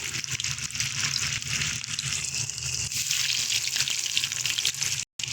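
Vegetable chops fry on low heat in hot refined oil, a steady close sizzle and bubbling crackle that runs without a break and is heard alone.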